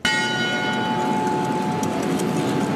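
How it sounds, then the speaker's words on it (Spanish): Bell of the Templo de San Francisco in Bogotá, a church bell that has struck the hours for nearly a century, ringing loud and close with sustained overlapping tones above a dense wash of noise for about three seconds. "el reloj y la campana del templo han marcado las horas por casi 100 años"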